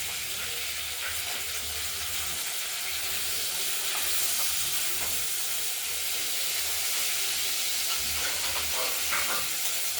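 Steady, loud sizzle and hiss of spices with turmeric and tomato frying in oil for a Bengali pabda fish curry with potato, heard close up with occasional stirring scrapes and no talking.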